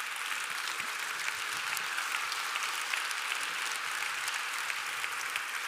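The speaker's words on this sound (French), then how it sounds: "Je vous demande à nouveau de les applaudir très fort" An audience applauds a children's music school brass band at a concert in Caen. Steady, fairly faint clapping from a large crowd continues evenly for several seconds with no voices.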